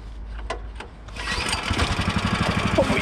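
A Soviet motor cultivator's small engine is pulled, catches and sputters into a ragged running idle, close and fairly loud after two sharp pull-start strokes.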